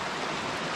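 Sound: river flowing through a rock gorge

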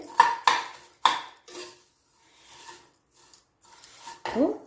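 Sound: sev vermicelli roasted and tossed in ghee in pan

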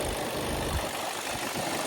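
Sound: Skoda Octavia 2019 1.6 diesel engine idling

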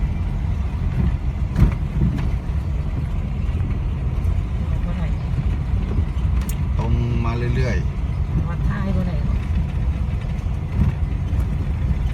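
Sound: road traffic, cars passing

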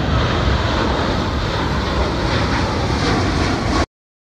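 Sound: surveillance aircraft engine

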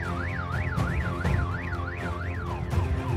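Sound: car alarms sounding after earthquake

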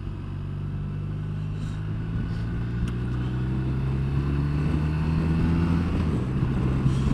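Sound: BMW R1250RT motorcycle riding

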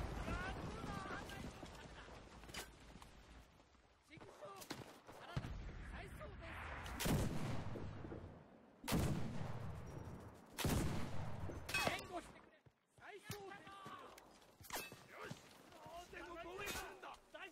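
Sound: gunfire in the video game Enlisted

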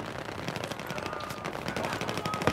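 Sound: gunfire in Battlefield 4 video game

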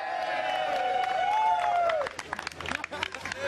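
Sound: crowd of onlookers reacting to police appearance

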